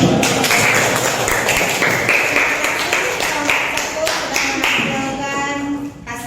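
Classroom applause after a group presentation, with students clapping in a loose, uneven rhythm of distinct claps up close while voices and chatter carry on over them.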